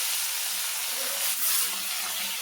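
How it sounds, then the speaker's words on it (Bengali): Fish pieces fry in hot oil for a light fish curry, giving a steady, broad sizzling hiss at moderate level with a brief swell midway. "এখন মাছগুলো ভাজা বসিয়ে দিলাম।"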